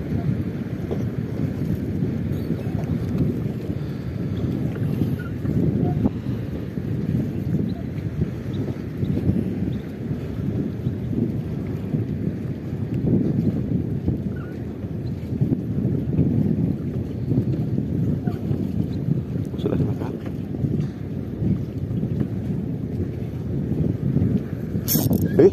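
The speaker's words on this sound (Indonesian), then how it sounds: "Wih, anginnya kencang." Strong wind buffets a fishing boat out on the water, a steady low roar that continues without a break, with no clear voices over it.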